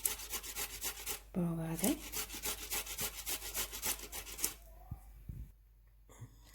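Half-cooked potato scraped across a grater for potato dosa, a rhythmic run of rasping strokes, close and distinct, briefly interrupted by a short voice before the grating resumes and then fades to quiet handling.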